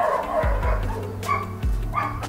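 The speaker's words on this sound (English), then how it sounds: "let's not record right now because the dogs are barking" Several dogs bark in sharp bursts, a few close together and then another pair, loud and near over a steady low background hum.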